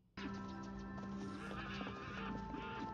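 A horse in the TV series Young Royals neighs in a drawn-out whinny that starts abruptly and stays close and clear, with faint knocks beneath it.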